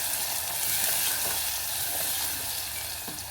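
Tomato pieces stirred as they fry in a pan for a Telangana-style taro root curry, giving a loud, continuous sizzle with faint scraping throughout.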